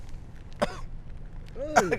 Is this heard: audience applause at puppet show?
no